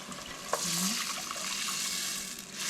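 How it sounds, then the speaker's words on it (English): Water is poured into a pan of mostly cooked onion and celery, a loud steady sizzle and hiss with a brief clink at the start and no talking. "since the onion and celery are mostly cooked, I'm going to go ahead and add in the water"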